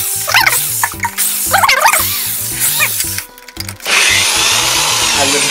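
Power drill used to crank a scooter engine, whirring in repeated stop-start bursts with a sharp squealing whine on top, then a steady broadband rush of noise near the end.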